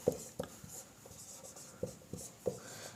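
Chalk or marker writes on a board while a maths problem is being solved, giving a run of quiet, sharp taps and short strokes at irregular intervals, close and alone.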